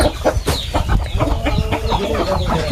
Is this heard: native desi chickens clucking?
yes